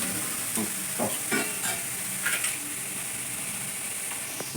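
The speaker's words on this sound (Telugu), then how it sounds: "ఇక నూనె వేడిగా అవుతుందని చెప్పి వేసేస్తున్నా. దీంట్లో అవుతుంది అలా వేసుకొని కలపాలి, మంచిగా కలపాలి" Ingredients for egg and soya chunk fried rice sizzle in hot oil, a constant bright hiss broken by several clattering stirs and scrapes of a spoon against the pan, close and continuous.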